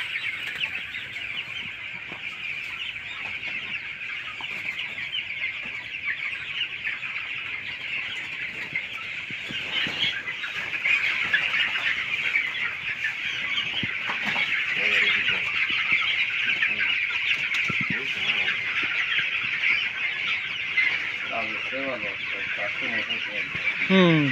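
A large house of 2,900 broiler chickens on a poultry farm keeps up a dense, continuous chorus of clucking and chattering, growing slightly louder partway through, with no talking.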